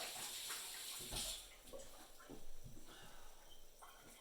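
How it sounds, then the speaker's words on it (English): Hands being rinsed with soap under a running kitchen tap while preparing ribs, a steady close hiss of flowing water with brief splashes and rubbing shifts. "let me rinse my hands real quick. Use some soap."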